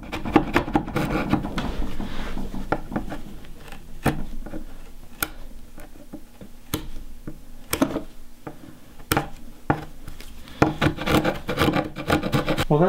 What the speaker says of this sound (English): Just using my chisel here.